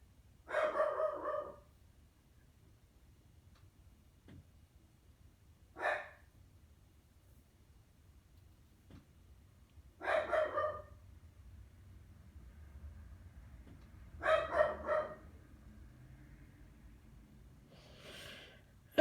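Dog barking in a series of short, separate bursts spread across a quiet stretch, each bark fairly loud and close, with faint breathing and snorting noises between them.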